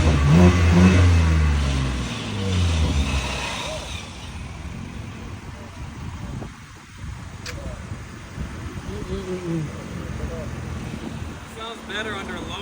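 A Dodge Hellcat muscle car with a loud aftermarket exhaust revs and rumbles loudly nearby, with people talking and shouting over it outdoors.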